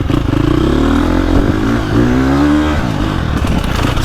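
A KTM 350 XCF dirt bike engine revs hard and close, a loud rasping roar that climbs and falls in pitch through several throttle blips.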